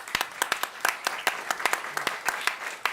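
Modest audience applause at a Climate Week NYC welcome event on regenerative food systems, scattered distinct claps in a loose rhythm across the room, fairly close and moderately loud, with no one speaking over it.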